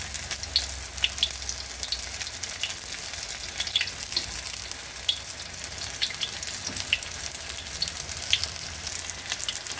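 Chicken frying in plenty of cooking oil, a dense, steady crackling sizzle with small popping bursts that runs evenly throughout, close and loud, with no talking.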